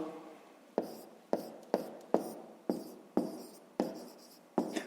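A pen writes on paper during a fifth-grade maths lesson, making about nine distinct scratchy strokes at a steady pace, close and soft.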